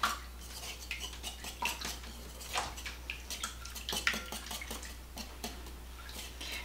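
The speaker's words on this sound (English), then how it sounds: "Stir all this up." A spoon stirs mayonnaise and mustard into a sausage breakfast casserole mix in a bowl, a quiet, close run of uneven clinks, scrapes and wet squelches; no talking.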